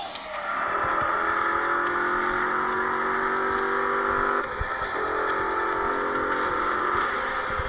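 Motorcycle engine in the GTA video game, a sustained high whining drone with rising pitch sweeps, steady and fairly loud, with a brief shift partway through and no talking.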